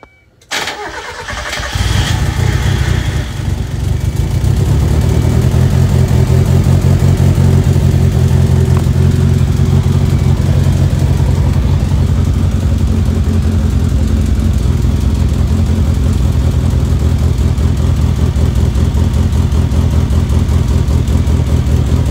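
A turbocharged Mazda Miata engine cranks and fires after a brief quiet start, then settles into a loud, steady, close-up idle with a rough, throbbing rumble that continues throughout.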